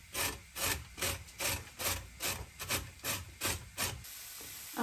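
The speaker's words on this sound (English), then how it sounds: "So now we are grating the carrots." Carrots being grated by hand for borscht give a rhythmic, rasping scrape, about ten strokes in steady succession, close and fairly quiet with no talking.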